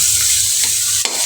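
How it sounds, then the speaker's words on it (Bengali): Dried fish (shutki) frying in a pan gives a steady, close sizzle, with a couple of quick stirring scrapes breaking through near the end. "শুটকিটাকেও হচ্ছে খুব সুন্দর করে ভাজা নিতেছি"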